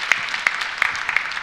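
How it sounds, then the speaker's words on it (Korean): Church congregation applauding during a pastor's sermon, a short burst of scattered, moderately loud hand claps with several sharper individual slaps standing out. "또 계속 이렇게 박수를 치시네요"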